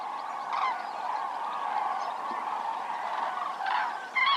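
Common cranes, wintering birds that breed in Scandinavia and northern Russia, give continuous honking, trumpeting calls from a flock at middle distance in wild Spain, with louder bursts near the end and no talking.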